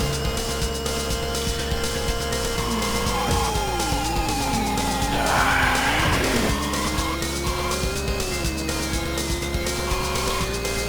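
A Ferrari F40 engine drones steadily through an arcade Turbo Out Run race, its pitch rising and falling with gear shifts, while a burst of tire squeal and skidding surges in the middle over continuous game music.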